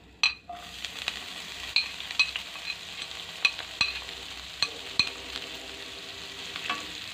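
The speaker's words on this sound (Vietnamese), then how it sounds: "mình sẽ cho dầu ăn vào cái chảo này để mình xào đấy" Lemongrass stir-fries in cooking oil in a pan with a continuous sizzle. Frequent sharp scrapes and clinks come from a utensil stirring against the pan, up close.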